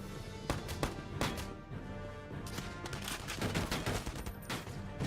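Gunfire rattles in the Valkyria Chronicles 4 video game, with rapid overlapping shots and bursts like a firefight, heard faintly and fairly evenly throughout.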